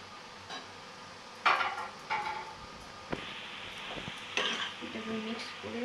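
Momo filling seasoned with ground black pepper gets stirred in a pan, with soft sizzling and several distinct scrapes and clinks of a spoon against the vessel, fairly quiet and close.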